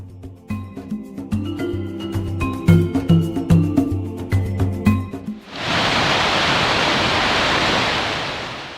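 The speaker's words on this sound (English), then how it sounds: "Baker's Trail that explores the top of Murchison Falls" Murchison Falls, where the Nile drops through a narrow gorge in a powerful waterfall, heard as a loud, steady broadband roar. It comes in after several seconds of music and holds constant to the end.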